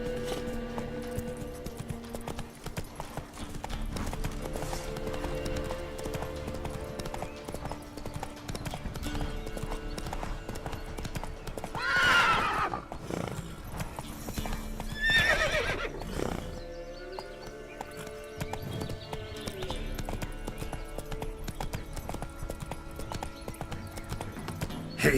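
A horse in The Witcher 3 video game clip-clops along at a steady rhythm, with two loud whinnies midway, over soft in-game background music.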